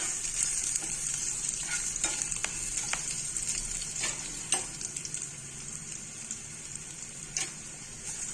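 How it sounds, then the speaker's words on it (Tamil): Garlic and curry leaves sauté in a pan over low heat, giving a steady soft sizzle with occasional stirring scrapes and small pops throughout. "இப்போ பூண்டு கருவேப்பிலாம் வதங்கிருச்சு"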